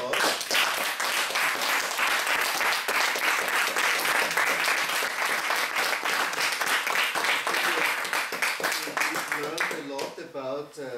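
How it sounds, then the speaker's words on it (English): An audience applauds at the close of a panel discussion on inter-religious dialogue and conflict resolution, with long, loud, steady clapping that fades toward the end as a voice starts speaking. "I think this was excellent and it deserves a big applause."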